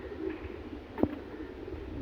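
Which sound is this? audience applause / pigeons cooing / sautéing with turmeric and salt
pigeons cooing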